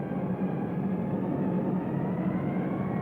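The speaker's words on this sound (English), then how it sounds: "Worried Germans heard the first wave drone overhead." A steady, low drone of a wave of WWII aircraft passing overhead, wide and continuous, with no break or change in loudness for the whole stretch.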